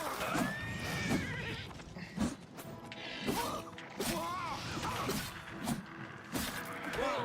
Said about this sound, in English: Stop hurting my horse